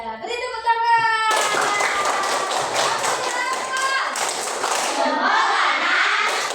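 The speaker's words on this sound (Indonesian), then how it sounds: "Ya, beri tepuk tangan." A classroom of children applauding together, a steady rhythmic patter of many hands at close range with voices chanting and talking over it throughout.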